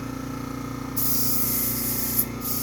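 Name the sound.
airbrush spraying test paint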